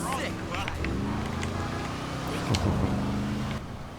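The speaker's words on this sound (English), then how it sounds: "It's got a great sound too. Nice little growl and purr." A low sports car engine in Grand Theft Auto rumbles steadily with a brief revving surge midway, while someone talks over it throughout.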